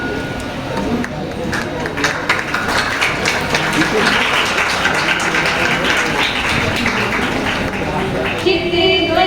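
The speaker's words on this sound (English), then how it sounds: "Please give a huge round of applause." An audience at an International Doctor Day celebration claps in a fairly loud, continuous round. Voices and other activity mix in toward the end as the ovation fades.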